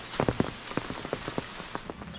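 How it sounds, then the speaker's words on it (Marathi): Monsoon rain falls steadily at a riverside, with scattered close drops pattering and tapping in an irregular rhythm against a constant wet hiss. "पाऊस अजून पण चालूच आहे"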